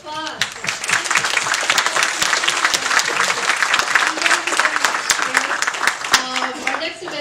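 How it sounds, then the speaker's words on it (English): An audience at an investor panel applauds loudly and steadily, a dense, sustained burst of clapping that fills the room from start to finish. "let's give everyone a round of applause."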